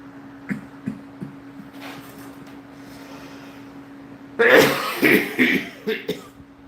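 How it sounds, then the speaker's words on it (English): A few short coughs sound in quiet, then a louder burst of several harsh coughs close by near the end. "I started coughing thinking of food."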